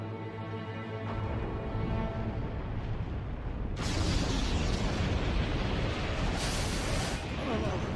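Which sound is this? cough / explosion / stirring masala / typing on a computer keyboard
explosion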